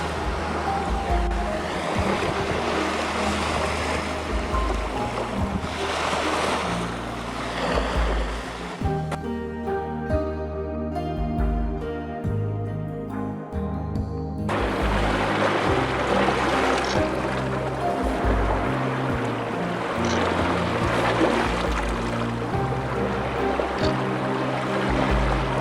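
Waves on a Red Sea beach wash and roll continuously with a broad surf hiss, easing into a calmer lapping lull midway before the breaking water swells back up, steady and fairly close.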